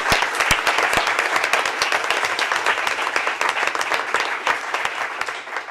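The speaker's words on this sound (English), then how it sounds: "So I'd like everybody to give him a round of applause for his work." Sustained applause from the audience at a board of education meeting for a departing colleague, a thick wash of many hands clapping at an even level for several seconds.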